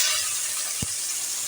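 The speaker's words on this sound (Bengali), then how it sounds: "চিংড়ি মাছগুলোকে ভাজা করে নেব।" Shrimp fry in a pan with a continuous close hiss and sizzle of oil and one brief soft knock partway through, no talking.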